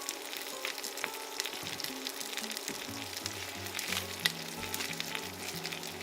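Kale sizzling in oil in a pan over medium-high heat, a dense continuous frying hiss with crackles and stirring clatter, close up and fairly loud, with no speech.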